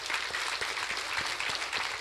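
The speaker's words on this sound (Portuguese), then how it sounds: "uma calorosa salva de palmas" A congregation at a Catholic Mass claps warmly, a dense, steady patter of many hands in a reverberant space, sustained at moderate loudness for the whole moment.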